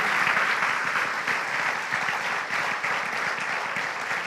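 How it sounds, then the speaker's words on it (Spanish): A church congregation at Iglesia Rey de Reyes in San Fernando applauds loudly, a thick sustained roar of clapping that holds evenly throughout. "Bien fuerte el aplauso al que se lo merece."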